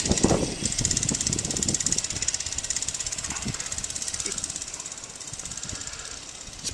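A Baja minibike with a 97cc four-stroke engine and an unscrewed governor runs with a steady, buzzing drone across the whole clip. It sounds loud and close, with scattered knocks and rattles and occasional voices underneath.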